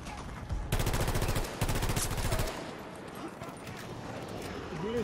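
Bursts of rapid automatic gunfire from the shooter game Battlefield 2042, two loud sustained volleys followed by quieter distant shots and faint voices of players talking.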